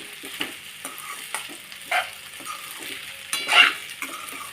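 Sabudana tapioca pearls frying in a pan on a low-to-medium gas flame, stirred with intermittent scraping strokes over a soft continuous sizzle, including one louder rasping stir near the end.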